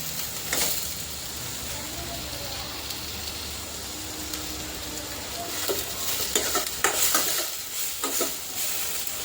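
Ingredients being sautéed in oil in a pan for spicy Yippee noodles: a continuous close, hissy sizzle with occasional light scrapes of a spoon, growing busier toward the end.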